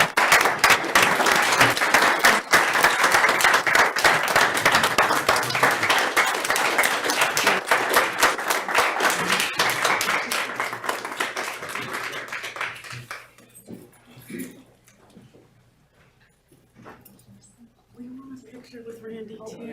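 Sustained audience applause honors a Southwestern Division Award recipient, dense and loud for about thirteen seconds before tapering off into scattered claps and quiet murmuring.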